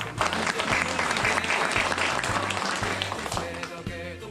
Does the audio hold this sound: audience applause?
yes